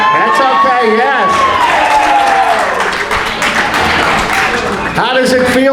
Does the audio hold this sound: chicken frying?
no